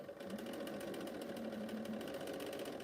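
A sewing machine runs steadily, stitching a seam on a Cleopatra's Fan quilt block with the pins still in, a continuous close mechanical whir at a modest level.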